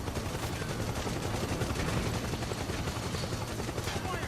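Loud, dense action sound from the Metal Gear Solid 4 video game, with a helicopter's steady roar overhead and bursts of rapid gunfire packed into a constant wall of noise for the whole stretch.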